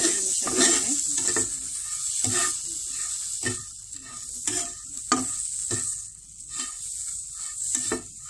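Vermicelli (semai) frying in a pan over low heat gives a steady sizzle, broken by repeated scraping strokes as it is stirred, each stroke loud and near, with no voices.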